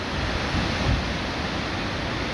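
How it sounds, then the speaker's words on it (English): The flooded River Don in Sheffield in 2024 rushes past in a loud, steady broadband roar of churning water, close to the microphone, with some wind buffeting. "look at the power of that water"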